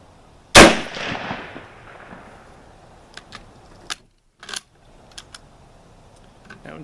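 A single loud Kar98k Mauser sporter rifle shot, loaded with Hornady 170-grain round-nose bullets over IMR powder, cracks sharply near the start and rings out in a long decaying echo, followed by a few faint clicks and handling noises.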